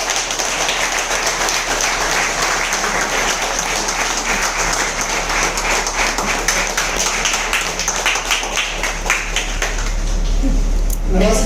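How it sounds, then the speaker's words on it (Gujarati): An audience at a product event in Ahmedabad claps for a speaker coming to the stage, a thick continuous patter of many hands that holds steady, then thins and tails off near the end. "તાળી પાડો તો દિલથી પાડો."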